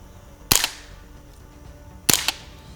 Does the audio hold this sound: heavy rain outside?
no